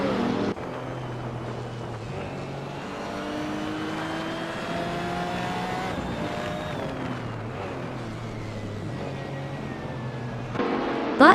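A 2016 BMW M6 GT3 engine in a racing video game drones steadily with gliding revs as the pitch rises and falls through gear changes, loud and continuous.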